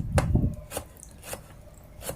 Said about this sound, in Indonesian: Lobaknya saya potong tipis-tipis dulu